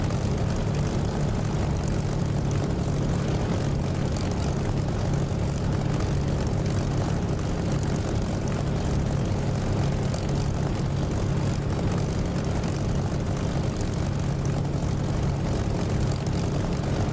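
A propeller aircraft engine in the DCS flight simulator game drones steadily at high power for takeoff from a taxiway, loud, continuous and unbroken, with no talking over it.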